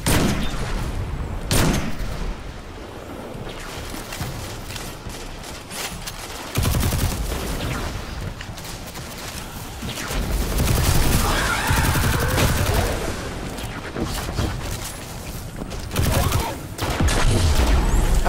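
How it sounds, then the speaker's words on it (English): Vex enemies trade fire in Destiny 2 on PC, with rapid bursts of shots and booms crowding a busy, loud battle that shifts in intensity throughout. "Remember, with the Vex shooting in the glory spot."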